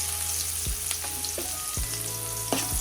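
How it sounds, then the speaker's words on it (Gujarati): Chopped onions sautéing in hot oil with cumin, asafoetida and curry leaves give a steady, close sizzle, broken by occasional sharp clatters of a utensil against the pan, with no talking. "ડુંગળીને સારી રીતે તેલમાં સાંતળી લઈશું"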